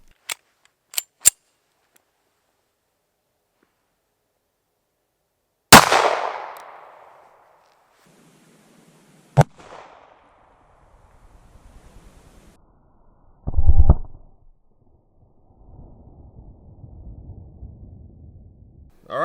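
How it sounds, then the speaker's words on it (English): A 1911 pistol fires 185 grain Hornady Critical Defense ammunition outdoors. One loud, close shot rings out with a fading tail, preceded by a few sharp clicks and followed by another crack and a dull thump. "we are going to shoot the 185 grain Hornady Critical Defense"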